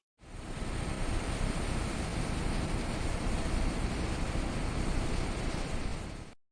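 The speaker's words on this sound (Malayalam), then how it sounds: "ലോകത്തിലെ ഏറ്റവും സുരക്ഷിതമായ ബോയിങ് 777 ബീജിംഗിലേക്ക് പറക്കാൻ തയ്യാറെടുക്കുന്നു." Boeing 777 airliner engines on flight MH370 make a steady, dense jet roar that fades in, holds at an even level for several seconds and then cuts away.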